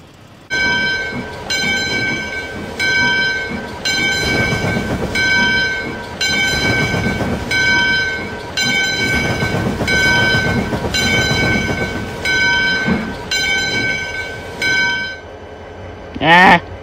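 A train rumbles and clatters close by, its horn sounding in repeated rhythmic blasts over the rolling wheels, followed by a brief rising tone near the end.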